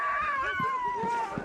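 Sled dogs at a mushing track howl together in a long, wavering chorus, with several voices holding drawn-out notes over faint thumps and yips.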